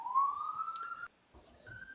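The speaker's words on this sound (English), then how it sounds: "Sorry about the siren in the background." A siren wails in the background, a thin rising tone that cuts off and then returns briefly at a higher pitch, fairly faint with no voices over it.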